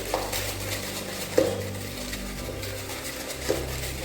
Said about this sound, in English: All you need is a whisk. So let's mix this.